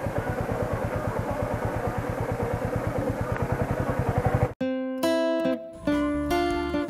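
A motorcycle engine idles with a rapid, steady putter, close and fairly loud, then cuts off abruptly and gives way to clattering and tonal electronic beeps.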